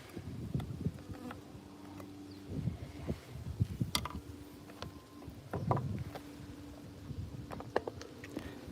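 Honeybees buzz softly around a hive during a honey harvest, with faint wavering drones rising and falling over quiet handling and knocking noises. The sound is low in level and close by, and nobody speaks.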